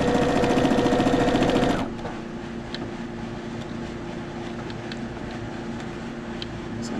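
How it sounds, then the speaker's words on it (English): A sewing machine stitches a fabric mask with a loud, steady whirring hum for almost two seconds, then stops abruptly. A faint low hum and small handling sounds remain afterward, with no talking. "And I'm going to sew up to this point,"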